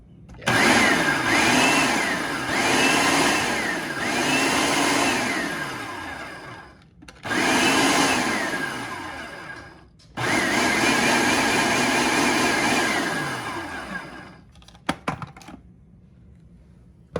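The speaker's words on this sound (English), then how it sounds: "pulse it until it's blended and most of the seeds are chopped" A kitchen blender pulses in several loud bursts, chopping up seeds, each run whirring steadily for a few seconds with short pauses between, ending in a few light clicks.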